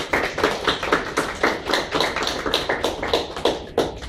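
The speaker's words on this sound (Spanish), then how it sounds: "Boni, así como Gerson Gómez y Antonio Ramos, a quienes recibiremos con el fuerte aplauso." Audience applause at a book presentation, a dense, steady patter of many hands clapping nearby, continuous throughout with no talking.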